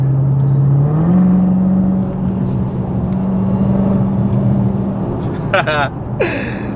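A Dodge Challenger Hellcat widebody accelerates hard on a wet road with traction control off, its engine a loud, sustained roar climbing in pitch over several seconds, with excited voices breaking in near the end.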